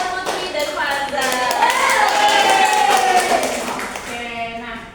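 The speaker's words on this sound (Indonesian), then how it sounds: "Tepuk tangan buat Putri dan Faza" A classroom of young pupils claps for two classmates, brisk scattered hand claps under overlapping children's voices, one rising and falling sung-out tone running through the middle, fading near the end.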